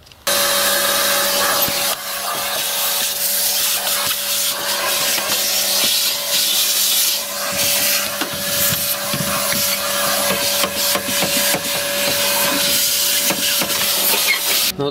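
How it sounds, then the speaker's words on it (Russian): A small handheld vacuum cleaner sucking dust out of a Lada Niva car interior, a steady high whine running throughout with scraping and rubbing as the nozzle moves over surfaces, close and loud. "Вот смахнул я пыль пылесосиком, чуть промыл."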